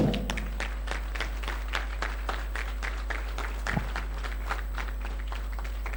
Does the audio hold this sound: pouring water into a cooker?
no